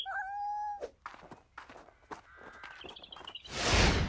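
A cartoon cat meows in a children's animated show, one short high-pitched meow near the start, followed by scattered light taps and soft noises and a burst of rushing sound at the end, no talk.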